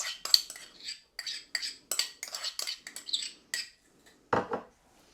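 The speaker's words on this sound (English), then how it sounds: "And then just mix that up so it makes like a thick tomato sauce." A spoon clinks and scrapes against a bowl in quick, irregular bursts while a thick tomato pizza sauce is stirred, close up with no talking.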